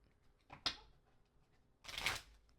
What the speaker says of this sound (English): Let me shuffle that again.